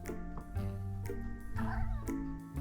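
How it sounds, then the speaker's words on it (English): A street cat meows outside near a home, a few drawn-out, pitched cries over about three seconds against steady background hum, moderately close and clear. "as was a local street cat."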